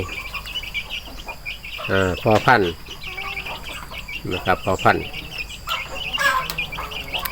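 Chickens, fighting cocks among them, cluck and call softly while feeding on rice and food scraps in a Thai farmyard, with several brief bird calls over steady background and someone speaking throughout.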